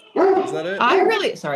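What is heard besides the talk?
dog barking at a delivery man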